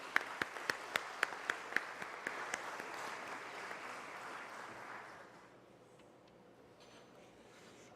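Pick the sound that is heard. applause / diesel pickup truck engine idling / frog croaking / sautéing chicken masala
applause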